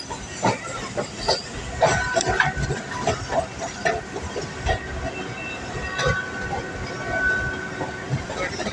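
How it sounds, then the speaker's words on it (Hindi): The Khyber Express rumbles through a city near a level crossing, with steady clickety-clack of wheels on rails, a hissing undertone and a brief high squeal, heard close up throughout. "ये हमारे ये खाल एक्सप्रेस जो ट्रेन है ये शहर में से गुजर रही है।"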